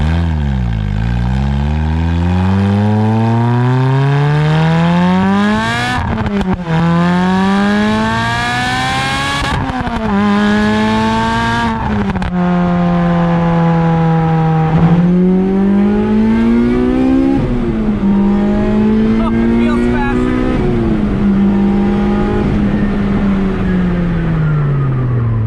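Lotus Exige with an Inokinetic/Sector111 exhaust revving hard and accelerating through several gears, the engine note climbing, dropping at each shift and climbing again, loud and close with no talk.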